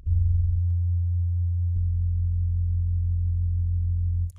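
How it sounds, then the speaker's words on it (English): A Legend Soul organ sustains a single low note played from the pedal board with the rotary speaker effect set to fast, a steady humming tone with a slight shift in timbre partway through, heard alone. "You can hear the rotary effect."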